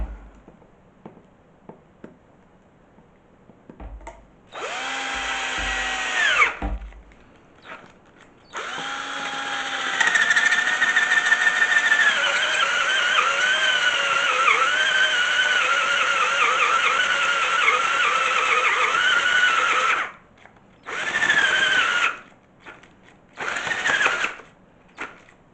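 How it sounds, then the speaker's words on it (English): A power drill bores through a Lowe's plastic bucket in several loud whining bursts, one long sustained run followed by shorter pulses, with quiet gaps between. "we're going to drill the second hole on the back side here"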